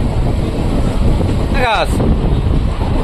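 Strong, buffeting wind roars continuously past the microphone aboard a Digha–Santragachi special train running at about 103–104 km/h, with a brief whistling tonal sweep partway through.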